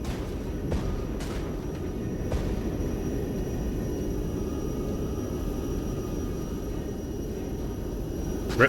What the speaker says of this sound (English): Can I bring in an airstrike here?